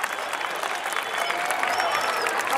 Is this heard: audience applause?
yes